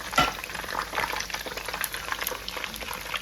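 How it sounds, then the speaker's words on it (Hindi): Egg koftas frying in hot oil in a pan, a steady crackling sizzle with bubbling bursts, a louder spatter at the start, close and continuous without talk. "कोफ्ते हमारे अच्छे से फ्राई हो गए।"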